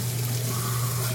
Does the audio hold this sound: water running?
yes